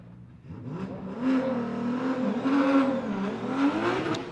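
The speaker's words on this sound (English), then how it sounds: "as Michael Essa, the Essa Autosports Achilles tire BMW" A BMW drift car on Achilles tires, driven by Essa Autosports, revs hard during Formula Drift qualifying at Wall in 2019. The engine note rises and wavers continuously, loud and fairly near.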